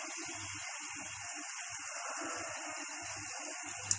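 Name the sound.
golgappe frying in hot oil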